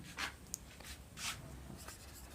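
Chalk or marker scratches across a board during a biology lesson, several brief strokes in quick succession, clear and close over a steady room hiss.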